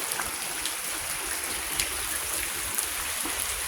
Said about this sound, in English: Credit, what are you doing standing in the rain?